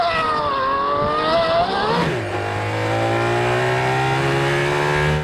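An Aston Martin Valkyrie hypercar screams up through its gears at high revs, then drops abruptly to a lower steady engine drone as it brakes, loud and close throughout.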